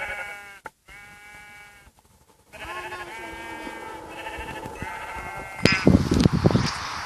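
Sheep bleating repeatedly in a survival video game, clear tonal bleats alone with short gaps, followed by louder clattering game noise at the end.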